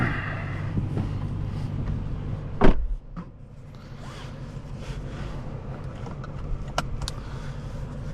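A 2023 Lexus IS500 Limited with a V8 gets ready to drive off: a sharp door thud cuts through a steady low engine rumble, followed by faint cabin clicks and rustles.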